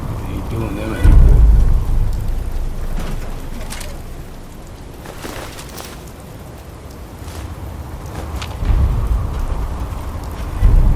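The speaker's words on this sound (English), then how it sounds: "Oh my, it's raining again." Rain and thunder from the game Fallout 4, with steady hissing rainfall and a deep thunder rumble near the start and again toward the end, all moderately loud.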